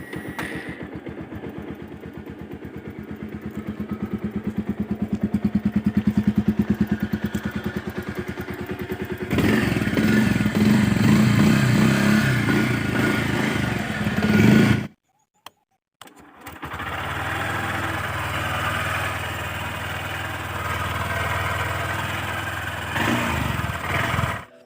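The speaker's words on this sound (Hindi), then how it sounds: "SP 125 का इंजन जो है बहुत ज़्यादा स्मूथ है, जो कि मैं आपको अभी दोनों का साउंड भी सुना देता हूँ" A Honda SP 125 and a Bajaj Pulsar 125 motorcycle idle and rev one after the other, with a steady close engine thrum, a rise in revs and a brief cut between them.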